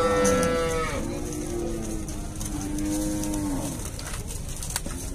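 A cow on a cattle farm in Dois Riachos, Alagoas, Brazil lets out a long, drawn-out moo that starts high, then drops to a low sustained tone, loud and near, over faint outdoor background.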